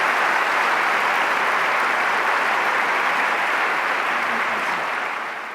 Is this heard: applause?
yes